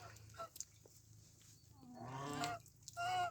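Backyard farm poultry, chickens with a rooster, give a few faint clucks and honking calls. Short calls are scattered over a quiet background before louder squawks near the end.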